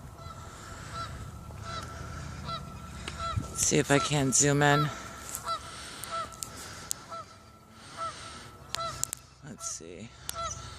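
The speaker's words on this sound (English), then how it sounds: "Ah yeah, we got 2 geese in the pond right now." Two geese on a pond honk in loud bursts, one cluster harsh and repeated, then scattered calls. A person speaks quietly over the outdoor background.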